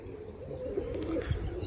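A long, competition-winning pigeon coos in a low, steady murmur close by, with faint background noise and a brief chirp-like sound near the end.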